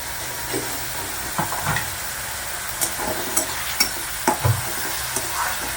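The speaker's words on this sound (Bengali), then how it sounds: "পেঁয়াজটা ভালো করে আগে একটু ভাজা ভাজা করে নেবো" Salted onions sizzle steadily in hot oil for aloo paratha while a spoon scrapes and taps against the pan every second or so, close up with no voices.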